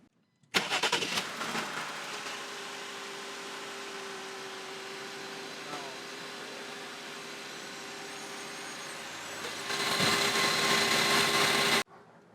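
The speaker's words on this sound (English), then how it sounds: "so he's going to turn the car back on." A Jeep JL engine cranks and fires, then settles into a steady idle with a faint whine, close up; near the end the idle grows louder and rougher, and then it cuts off.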